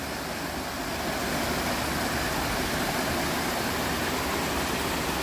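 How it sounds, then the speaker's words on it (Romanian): The Rila River rushes past Rila Monastery in Bulgaria's mountains, a dense, loud, unbroken roar of flowing water close by, with no voices over it. "Acum avem același râu Rila."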